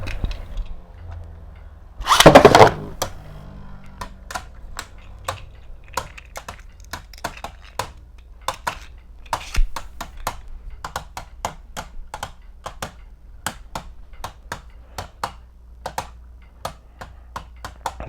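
Two spinning tops, Heat Salamander and Z Achilles, launched from a string launcher: a loud rip-launch burst, then a long run of sharp, irregular metallic clicks and clashes as they collide in a stadium, steady and close.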